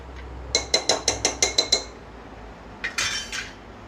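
A metal lid goes onto a pressure cooker of mutton on the stove: a quick run of about seven bright metallic clinks, then a short scraping clatter as it settles, close and clear with no talking.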